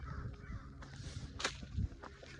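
Crows cawing outdoors, a large flock of them: several harsh caws at moderate distance over a steady bed of background bird squawking and ambient noise.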